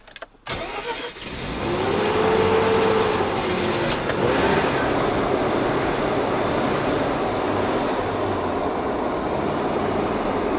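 A used Mazda RX7 FC rotary engine catches after a stuttering start, then runs steadily with a gentle rise in revs as it is lightly throttled, close and loud, with no talking.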